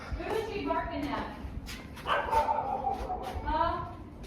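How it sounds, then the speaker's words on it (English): A dog barking indoors: several short yipping barks and whiny bow-wows in bursts, fairly close, with people talking over them. "Who is she barking at?"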